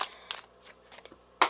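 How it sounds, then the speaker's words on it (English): Tarot cards are shuffled by hand in quick riffling bursts, a few short papery flicks close up with quiet pauses between them. "let me just keep shuffling"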